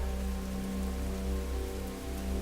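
Steady rain falls as a soft, continuous wash of drops on surfaces, even and unbroken throughout, set against wildfire-parched ground with flames being doused.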